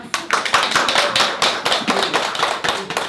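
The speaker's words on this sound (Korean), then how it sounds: "박수" Audience clapping during an exhibition-opening talk: dense, steady applause with many overlapping hand claps, loud and close, lasting about three seconds with no talking.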